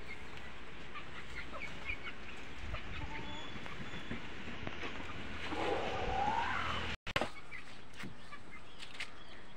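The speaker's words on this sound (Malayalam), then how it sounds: "ഈ കോഴി മുട്ടിടണുണ്ട്." A farmyard hen clucks while laying an egg, a steady cackling over rural outdoor ambience with other chickens nearby and someone talking.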